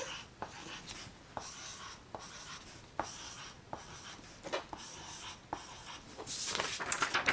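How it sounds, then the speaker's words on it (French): Pen drawing a simple figure on paper, close, dry scratchy strokes in short bursts with brief pauses between them, growing busier and louder toward the end, with no talking. "Vous allez dessiner comme un bonhomme très simple avec un ventre et une tête."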